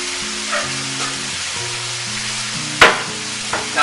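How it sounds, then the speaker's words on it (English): Rice noodles and beef stir frying in a wok, giving a steady close sizzle with a low tonal hum beneath it and a sharp clatter of the utensil near the end. "then you put your noodles in, right on top of your whatever you've mixed in there."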